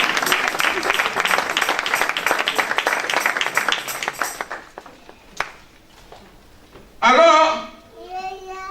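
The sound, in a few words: audience applauding and cheering for the children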